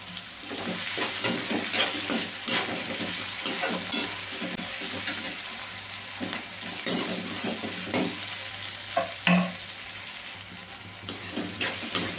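Tomatoes with salt cook in a pan for puffed rice upma (uggani), a close, continuous sizzle broken by frequent scraping and clattering strokes of a spatula being stirred through, with no voices.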